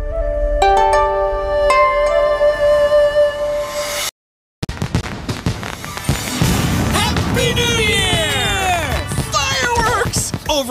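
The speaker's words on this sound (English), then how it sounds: "Let's watch the fireworks." New Year's fireworks in the animated series Lego Monkie Kid burst and crackle loudly after a stretch of tonal music and a brief silence, with dense popping, whistling streaks and booms filling the scene.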